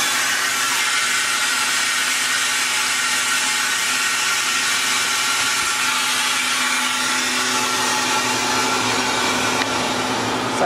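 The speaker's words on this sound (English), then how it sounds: "We're gonna open up that drain valve." Steady, loud air hiss from the opened drain valve of a Harvest Right freeze dryer after a batch of butternut squash, a continuous broadband rush holding evenly for the whole stretch with no talking.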